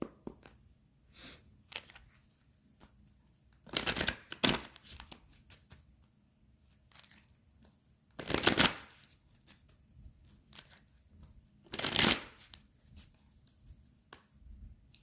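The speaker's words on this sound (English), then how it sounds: "Okay, Arpita, I'm gonna pull you a card right now" Message cards being shuffled by hand, three loud riffling bursts spaced a few seconds apart with soft card handling and tapping between them, close up and with no talk.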